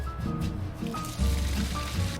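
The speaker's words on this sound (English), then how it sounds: "we're carefully transporting this pot of boiling hot water and orecchietti to a strainer" A pot of boiling water and orecchiette pasta tips into a strainer with a rushing, gurgling pour and a few wet sloshing surges. It is close and fairly loud, with a heavier splash partway through.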